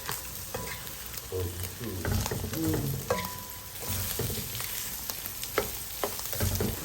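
Chaipoh fried and stirred in a pan, with a continuous sizzle and repeated scraping strokes of the utensil, plus a short spoken remark.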